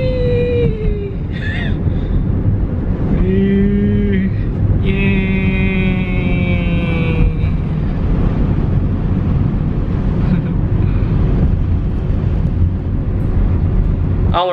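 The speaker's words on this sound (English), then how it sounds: "Now I'm gonna try driving for the first time with Henry's sunroof open" A car driving with its sunroof open produces a loud, constant low roar of wind and road noise, with a voice and some wavering tonal sounds over it.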